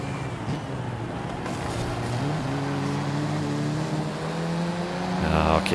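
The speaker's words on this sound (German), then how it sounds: "wie der Wagen hier um die Kurven geht und raus beschleunigt vor allem" A car in Forza Horizon 5 accelerates out of corners, its engine droning steadily and climbing in pitch through several gear changes, with a louder surge of revs near the end.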